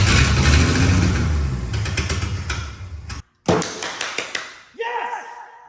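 An old abandoned truck engine running on carb cleaner roars loudly, then cuts out abruptly for a moment before sputtering and catching again in uneven bursts, with a voice near the end.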